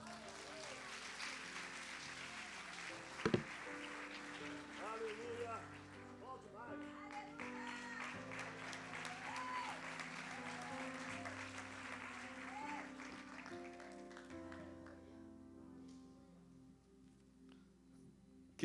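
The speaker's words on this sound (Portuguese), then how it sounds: "Aplauda o Senhor." Church congregation applauding during a Portuguese-language worship service, a sustained wash of clapping from a large crowd with a sharp bang near the start, fading toward the end.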